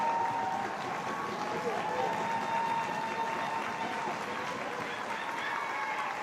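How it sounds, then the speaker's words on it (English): A crowd applauds in a large open stadium at a women's football match, Tottenham Hotspur v Leicester City, a steady spread of clapping and cheering noise that stays even across the whole stretch. "And the round of applause you can hear is for Signe Gopset as she makes her way to"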